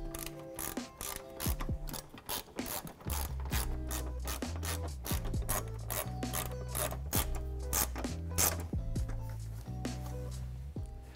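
A hand tool ratchets rapidly in repeated bursts while driving five screws into the bottom of the lower grille valance on a 2019-2023 Ford Ranger, with clicking close and alone.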